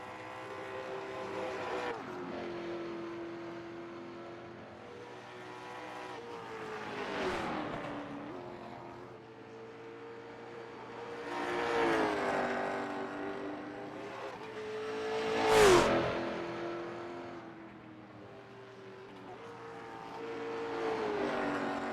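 Onboard a late model race car, the Red Bull number 5, circling the track: a steady droning engine tone that swells and dips with throttle through each lap, with occasional brief rushing sweeps.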